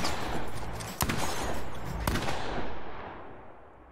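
Two sharp, loud gunshots about a second apart ring out in the horror video game The Quarry over a low rumbling background that fades at the end.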